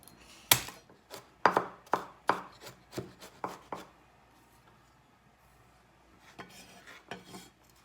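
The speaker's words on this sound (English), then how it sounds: "We're gonna do the garlic first. We're gonna crush them like this." Garlic cloves crushed for Filipino okoy: about eight sharp, close knocks in an uneven rhythm over two and a half seconds, then a quiet pause and a few softer scraping taps.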